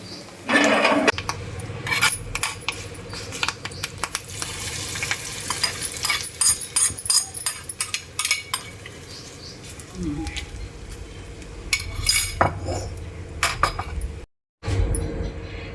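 Tempering is stirred into wood apple chutney in a pan, giving a soft sizzle under rhythmic scraping and clinking of a spoon against metal, with a few pauses and a brief silent gap near the end.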